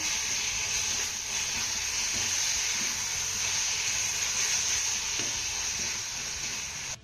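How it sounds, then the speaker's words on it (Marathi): Crushed green chili sautéing with masala in a pan, a steady close sizzle and hiss of frying that runs unbroken, with faint stirring scrapes and no speech. "मिरची घालून झाली की हिला दोन ते तीन मिनटं मसाल्याबरोबर छान अशी परतून घ्यायची आहे"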